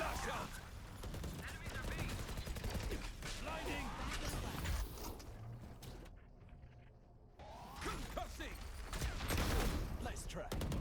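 Rapid bursts of gunfire in a tactical shooter video game crackle densely across the whole stretch, with a short quieter gap partway through, mixed with game effects and a voice talking underneath.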